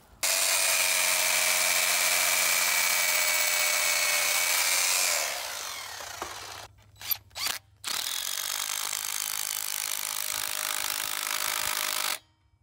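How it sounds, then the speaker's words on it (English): A Bosch rotary hammer fitted with a 3-jaw chuck and 3/16 bit drills into brick, a loud continuous grinding whir that winds down partway, followed by short bursts and another long steady run before stopping. "So I got my favorite Bosch roto hammer with a 3-jaw chuck in it."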